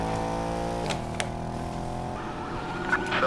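Police car siren in the Need For Speed Payback video game, a steady wailing tone at moderate level that shifts pitch partway through, with no talk over it.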